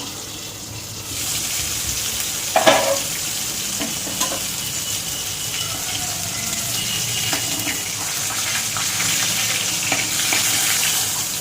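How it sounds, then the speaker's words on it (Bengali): Boal fish frying in hot oil in a home kitchen, a continuous close sizzle with a few sharper crackles and spits, running steadily with no talking. "ভেজে নিচ্ছি, বাদ বাকিটা যে কটা আছে ভেজে নেব"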